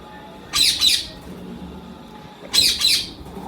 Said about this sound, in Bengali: ইউলো রিং নেক আছে এক পেয়ার